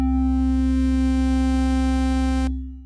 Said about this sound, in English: so that the pitch of both oscillators glide upwards to reach the final notes